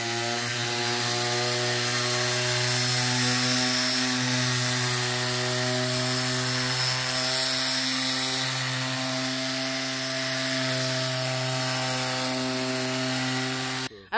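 A Carrefour multi-function power tool set to sander mode with 60-grit paper runs against wood, giving a steady, close, buzzing motor whine with a gritty rubbing hiss throughout, ending abruptly.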